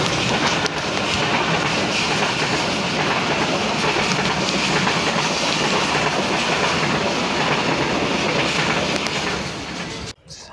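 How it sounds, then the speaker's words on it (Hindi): A moving train on a line near Faisalabad, Pakistan, rolling along with a steady, loud clickety-clack of wheels over rail joints, heard close from inside and continuous throughout, with no talk, before cutting off abruptly near the end. "अब देखें अब ट्रेन चल पड़ी है"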